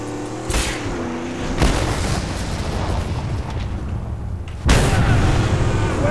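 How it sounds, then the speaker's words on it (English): A thunderpoon harpoon blast in the Mad Max video game: loud booming explosions hit at several points over a rumbling engine bed, with the biggest burst near the end. "Give it the old thunder poon."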